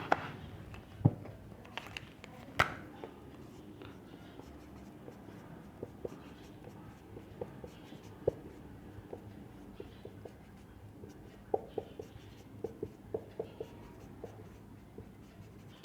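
Chalk or marker scratching out a chemical formula on a board, with steady scraping strokes and occasional sharp taps and clicks across the whole stretch, fairly quiet and close, no talking.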